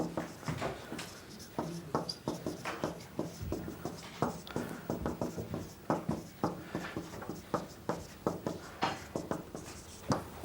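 Pens scratch across paper as students write in a math lecture classroom, giving a steady rhythmic series of short scraping strokes close by, with no talking.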